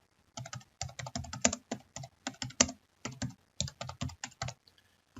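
A note is typed into a CNC programming application on a computer keyboard: crisp, close key clicks in uneven bursts with brief gaps, heard alone in a quiet room.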